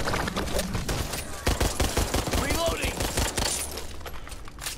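Pistol fire in Back 4 Blood cracks in rapid, repeated shots at close range, loud and rhythmic with chaotic game noise and some voice mixed in.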